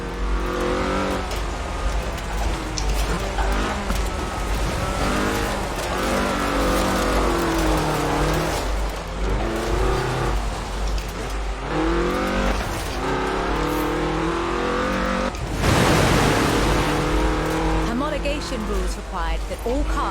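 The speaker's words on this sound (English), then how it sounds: "This was a car designed explicitly for rallying, with a powerful fuel-injected 1790cc Cosworth BDE engine." A Ford Escort RS 1800 rally car with a fuel-injected 1790cc Cosworth BDE engine in Forza Horizon 4, revving and shifting through gears with tyre noise, while someone narrates over it throughout.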